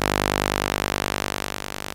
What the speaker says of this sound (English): that's the sound of the switch latches being scanned